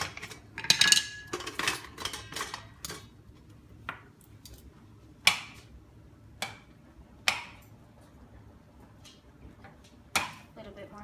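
Metal tongs clink and tap against a pan while shrimp are flipped, a run of sharp clatters at first, then scattered single clicks and taps spaced a second or more apart, close and fairly loud.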